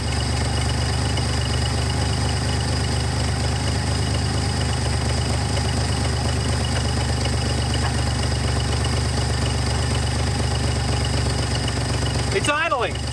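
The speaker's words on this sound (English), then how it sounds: "It's idling." An old 300,000-mile farm truck engine idles steadily for the whole stretch, a constant rumbling drone with a rough, slightly knocking texture, close and unbroken, with a brief scrape near the end.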